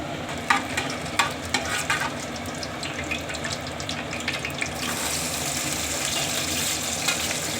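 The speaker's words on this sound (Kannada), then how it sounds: "ಈಗ ಇದೆಲ್ಲ ಚೆನ್ನಾಗಿ ಎಣ್ಣೆಯಲ್ಲಿ ಫ್ರೈ ಆಗ್ತಾಯಿದೆ." Onions and spices frying in oil for chicken biryani, a close steady sizzle with a run of sharp spatula taps early on, then a smoother, louder hiss after fresh onion goes in.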